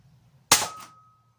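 A modded Nerf Fortnite Hand Cannon EC-1 blaster fires a single dart with one sharp, loud crack that decays quickly into a brief high ring.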